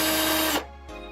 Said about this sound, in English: I'm going to drill right here on the opposite side of our diffuser hole.